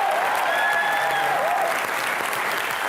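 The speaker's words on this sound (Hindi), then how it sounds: "एक बार जीतू जी के लिए और तुषार के लिए जोरदार तालियां।" A television studio audience applauds steadily for Jeetendra and Tushar, a loud, continuous wash of clapping heard close, with a faint tonal whistle-like sound riding briefly over it.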